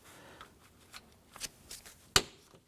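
A plastic insert snaps into place on the side mirror of a 2004-2008 Acura TL, giving one sharp, close click after a few soft handling rustles.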